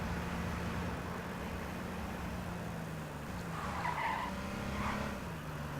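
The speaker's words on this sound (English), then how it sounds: "rolling your car is not going to be the safest bet in this" Car skidding and rolling in the H1Z1 video game, a steady gritty roar of engine and tyres sliding throughout with a low motor drone, brief scraping bursts near the end.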